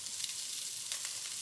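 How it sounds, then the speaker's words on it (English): Pork ribs stir-fried in a hot wok, giving a steady, close hiss of frying that stays even throughout with faint scrapes. "Stir fry to mix well, then add in some oyster sauce."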